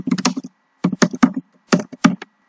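Computer keyboard typing, a quick series of close, crisp key clicks in three short bursts separated by brief pauses.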